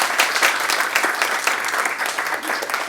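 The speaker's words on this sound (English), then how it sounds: "A big round of applause for the senior maestro who has joined him, guided him in this journey." Lively, dense audience applause at a Carnatic music gathering honoring a senior maestro, a continuous burst of many hands clapping at close range.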